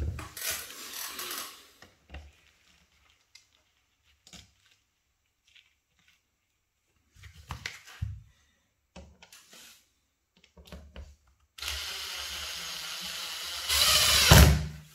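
A power drill bores holes in a bathroom wall during a rental refurbishment, with loud whirring bursts at the start and end, separated by a long quiet stretch of scattered knocks and handling clatter.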